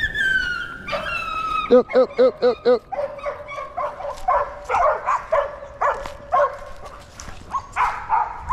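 A bird dog yips, whimpers and barks in a quick series of short, rhythmic calls during field training on flushed birds, close and loud, with someone speaking briefly around the calls.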